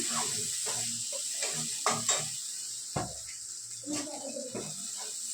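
Onion paste fries in a pan for a Bengali chicken and cauliflower curry. A soft, steady sizzle runs underneath, broken by irregular scraping and stirring knocks from the utensil.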